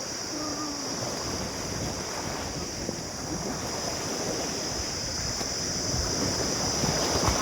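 Waves wash along a river in the Sundarbans in a soft, continuous surge, faint and distant, blended with wind buffeting the microphone. A voice is briefly heard.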